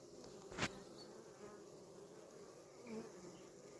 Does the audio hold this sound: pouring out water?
no